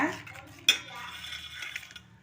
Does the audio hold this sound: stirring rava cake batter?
yes